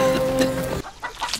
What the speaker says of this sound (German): Hey, du dummes Huhn!